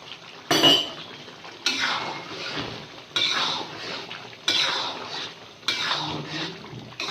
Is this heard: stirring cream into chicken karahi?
yes